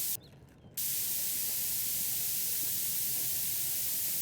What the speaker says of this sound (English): Let me spray the whole thing.